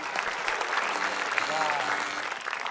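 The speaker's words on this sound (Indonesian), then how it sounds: "Kita tepuk tangan." A game show studio audience claps in steady, dense applause after a team is awarded points, with voices faintly mixed in beneath the clapping.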